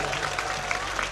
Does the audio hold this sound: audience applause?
yes